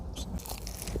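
A short, close crunch of teeth biting into a crisp pork pie crust, with brittle crackling bursts over a low background hum.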